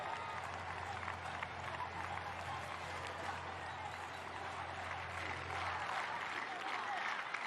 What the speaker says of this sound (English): the crowd shouting Italia